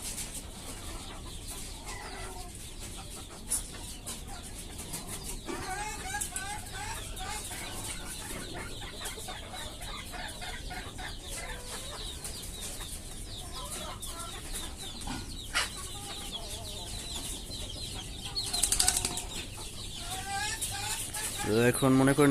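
Native chickens cluck and squawk repeatedly while being vaccinated, with occasional wing flapping and a brief louder burst of flapping, under a person talking nearby.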